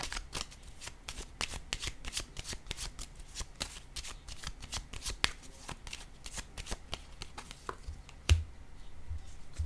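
Tarot cards are shuffled by hand in a rapid, steady run of crisp riffling flutters, close and moderately loud, ending with a single firm tap.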